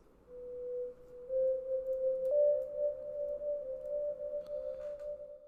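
A soft synthesizer tone built from basic waveform shapes with unison raised and detune lowered, a single sustained note that slides slightly upward and holds, quiet with light reverb and no talk.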